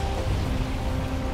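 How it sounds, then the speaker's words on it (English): Stormy rain in the video game Valheim pours as a steady, even hiss of moderate loudness, unbroken through a short moment. "it's getting stormy. Oh, it's raining fire too."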